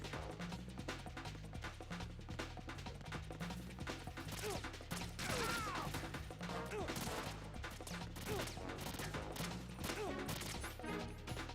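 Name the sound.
gunfire from a big gun in the video game Metal Gear Solid 2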